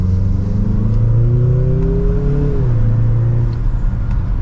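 A 2024 Mazda CX-50 Turbo in sport mode pulls hard in second gear, its engine note rising steadily before dropping at a shift, heard loud and continuous from inside the cabin with no talking.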